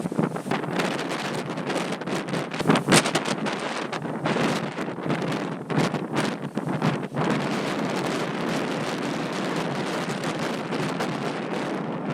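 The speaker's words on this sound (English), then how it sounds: "Look how windy it is." Strong wind buffets the microphone continuously, a loud roaring rush with gusty surges and no voices.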